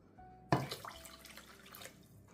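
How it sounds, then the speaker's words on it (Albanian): Water measured in 250 ml cups is poured onto sugar to make syrup for sheqerpare: a sudden close splash followed by a brief trickling pour that fades out, with no talk. "në total do të shtojmë 3 gota nga 250 ml me ujë"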